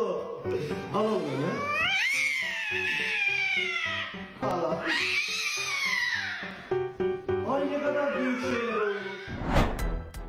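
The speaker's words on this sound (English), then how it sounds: "That cat is almost as dramatic as a husky." A cat caterwauls in long, dramatic rising and falling yowls, loud and close, with several drawn-out cries across the clip and a brief noisy burst near the end.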